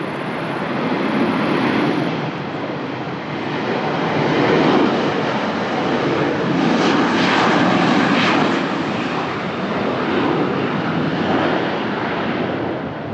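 A TAP Air Portugal Falcon taxiing at Lisbon Airport, its engines giving a steady, broad roar that holds fairly loud and close for the whole stretch, swelling slightly at times, with no talk over it.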